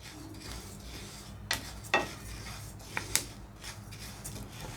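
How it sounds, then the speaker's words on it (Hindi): Flax seeds dry roasting in a pan give off a few sparse, quiet crackles and ticks, spaced irregularly over a low steady background hum. "तो यहाँ देखिए थोड़ी थोड़ी सी चटचट की आवाज़ आने लगी है।"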